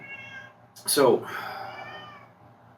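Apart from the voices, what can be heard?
cat meowing, locked in the bathroom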